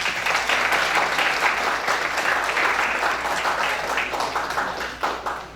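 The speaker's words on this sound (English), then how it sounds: "just give yourself another round of applause" A room full of fundraiser attendees breaks into loud, dense applause, many hands clapping continuously and close for several seconds before tapering slightly at the end, with faint voices mixed in.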